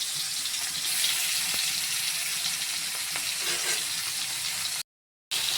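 Prawns fry in oil in a wok with a steady, dense sizzle and crackle that holds throughout, close and loud, before breaking off abruptly near the end.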